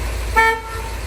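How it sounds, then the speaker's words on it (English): A single short horn toot from a 1962 Ford Galaxie 406 convertible, a bright mid-pitched honk lasting about a quarter second over low idle rumble. "Horn."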